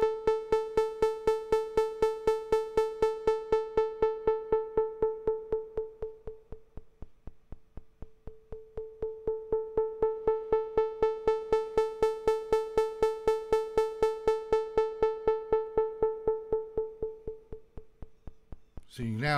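A buzzy synth tone pulses rapidly while an LFO sweeps its filter, brightness swelling and fading in two slow sweeps as the filter opens and closes; a short noise at the end.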